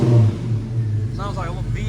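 A 1991 Chevrolet S-10 pickup's V6 engine idles with a deep, steady rumble and swells into a brief rev, heard up close while someone talks over it.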